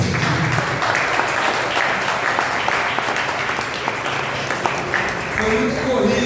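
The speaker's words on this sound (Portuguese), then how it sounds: "Palmas para Jesus." Congregation at a church meeting breaks into lively, loud applause that runs throughout while voices murmur and call out over the clapping.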